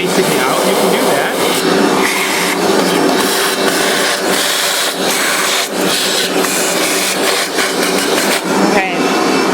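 A vacuum cleaner sucks debris out of the chamber of a Mazzer Major commercial coffee grinder, a loud continuous rushing whine with rattling bits of grounds, close up throughout.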